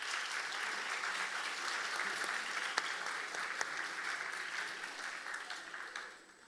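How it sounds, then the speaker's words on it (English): A student audience at a TED Talk contest on an English Day event gives a steady round of applause, fairly distant and even, with a couple of sharper claps standing out, tapering off at the end. "let's give them again a big round of applause"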